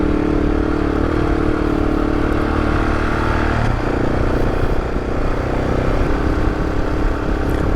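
Loaded adventure motorcycle ridden through rutted sand on the Continental Divide route in Wyoming, a steady loud engine drone mixed with heavy wind rush and clatter throughout.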